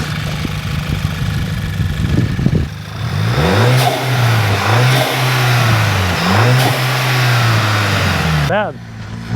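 A used car's engine at a salvage auction is revved repeatedly with the intake audible, rising and falling in several loud, close blips over a steady idle, with voices in the background.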